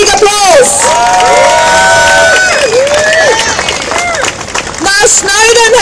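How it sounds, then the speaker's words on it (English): A rally crowd protesting PRISM surveillance in Melbourne cheers, whoops and applauds loudly, with shouting voices rising over steady clapping throughout. "They deserve a very, very big applause."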